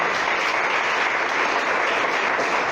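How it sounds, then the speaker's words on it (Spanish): A church congregation in Tecpán, Guatemala breaks into sustained applause, a thick continuous clatter of many hands at an unchanging loudness from start to finish, with nobody speaking. "Señor, dale un aplauso a mi Rey, a mi Señor."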